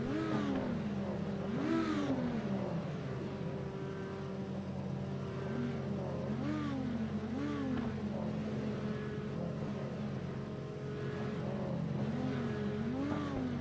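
Audi R8 Cup race cars rev their engines at the start of a race, with sustained, rising and falling engine tones that repeat in waves and hold steady at moderate loudness.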